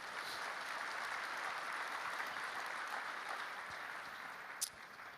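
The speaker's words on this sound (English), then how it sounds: "So please give a big round of applause to all the participants." Audience applause for hackathon participants at an awards event, a soft, steady wash of many hands clapping at a distance throughout, with one brief sharper knock near the end.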